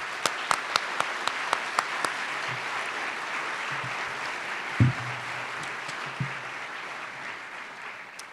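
An audience at a Martin Luther King Jr. celebration applauds its elected officials, a steady wash of clapping from many hands with a few sharp nearby claps at the start and occasional thumps.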